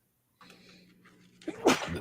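A single sneeze bursts out close and loud, starting with a short breathy intake and ending in a sharp explosive release, with no talking around it.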